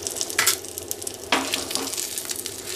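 Cumin, curry leaves, dried red chillies and a pinch of asafoetida sizzling in hot oil while tempering for a leftover roti dish, a soft steady fry with two sharper bursts of crackle.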